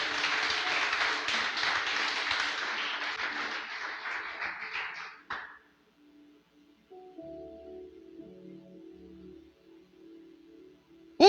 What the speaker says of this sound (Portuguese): Só quem crê aplauda Ele bem forte nessa noite.